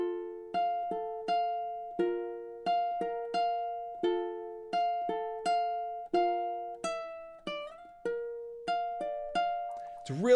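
A ukulele plays a fingerstyle phrase, clean plucked notes and soft chords ringing out one by one in a steady, unhurried rhythm, close and alone, with a slide near the end.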